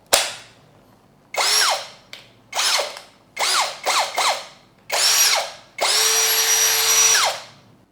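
A Hasston Art.3075-025 cordless drill whirs up in a series of short bursts, each motor spin rising and falling in pitch, ending in one longer sustained run; loud and close, with no talking.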